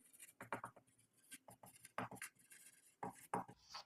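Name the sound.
writing on a board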